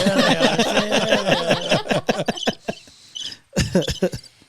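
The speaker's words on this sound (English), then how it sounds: "crickets went on for a while" Cricket-chirp sound effect played from a button, with rapid high chirping pulses following a burst of lively voices and laughter, then trailing off into scattered clicks.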